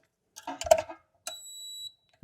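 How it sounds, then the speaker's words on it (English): A few soft clicks and handling knocks, then a single clear high electronic beep lasting about half a second as a biometric safe in a Tesla Model Y powers on. "You can hear the beep that tells me it's definitely got power now."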